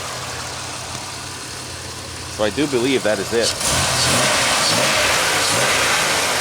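A car engine idles steadily, then revs up and holds a loud, raised note as someone talks briefly over the running motor.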